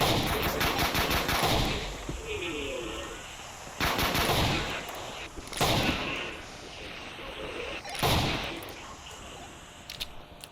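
Revolver gunfire in the video game Project Crypt comes in several loud, sharp bursts spaced a couple of seconds apart, with echoing tails between the shots.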